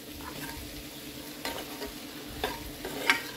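Chili powder and tomatoes cook in a home kitchen pan with a soft, steady sizzle, while a utensil scrapes and stirs in a few distinct strokes, fairly quiet and close.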